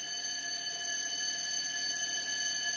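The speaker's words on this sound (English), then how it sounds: "That's a fire alarm." A fire alarm rings steadily in a room of an old mansion, a continuous high-pitched electronic tone holding without pause, fairly faint and alone with no voices over it.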